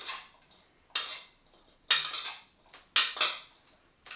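Salad ingredients dressed with a drizzle of olive oil and pepper are tossed in a bowl, giving four or five soft, evenly spaced clinks and scrapes of utensils against the dish, quiet and close.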